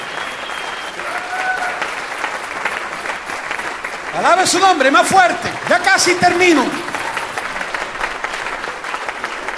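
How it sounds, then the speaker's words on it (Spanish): Church congregation applauding together during a Spanish-language sermon, a loud burst of clapping and cheering lasting a few seconds that swells and fades while the preacher keeps speaking over it. "Regálele su aplauso a Dios en este día."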